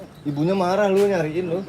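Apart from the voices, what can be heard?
turtle dove (tekukur) cooing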